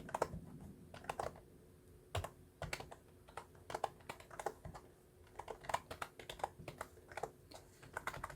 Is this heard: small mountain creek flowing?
no